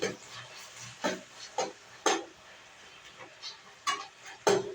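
Ridge gourd frying in oil for chutney, with a spatula scraping and stirring in short bursts every second or so over a faint, steady sizzle.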